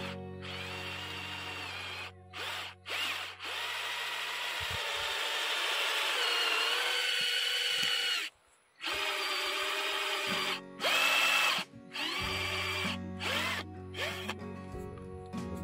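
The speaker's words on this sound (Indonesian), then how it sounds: "ini dilakukan pengeboran" Power drill boring into an HDPE water pipe to fit a 20 mm tap, a loud sustained whirring grind broken by several short pauses and speed changes, close up with no talking.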